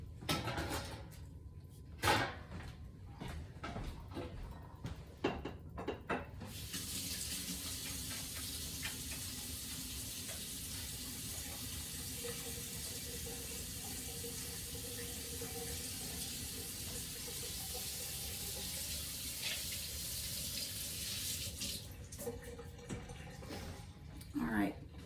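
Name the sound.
washing hands under running tap water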